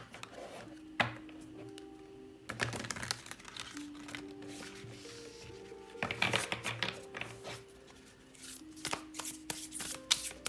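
Tarot cards being shuffled close by, repeated riffling bursts with brief pauses, a steady papery flutter throughout with no voices.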